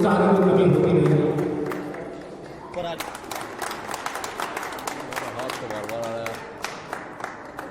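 An audience claps at a yoga event closing a mini Olympics. A voice dominates the opening seconds, then dense, crisp crowd applause carries on steadily to the end.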